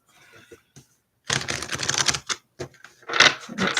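Tarot cards are shuffled by hand in a quick series of crisp riffling and snapping bursts, close and moderately loud, separated by short pauses.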